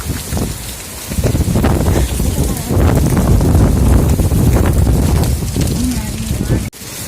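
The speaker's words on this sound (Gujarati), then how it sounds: "અત્યારે પણ વરસાદ ચાલુ થઈ ગયો છે" Heavy rain falls in Devgam village in Gir, a dense continuous hiss and patter that swells after the first second and holds steady, with a gusty wash. No clear thunder is heard.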